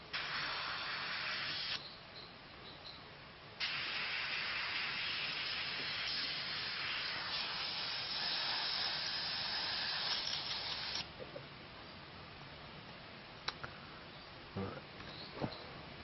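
Airbrush spraying light gold grey hobby paint, a steady close hiss in long bursts that stops and restarts, with brief pauses between passes and faint clicks near the end.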